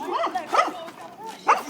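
A dog gives a few short barks, mixed in with nearby human voices in a casual outdoor hangout; the barks come as brief, separate yelps over the talk.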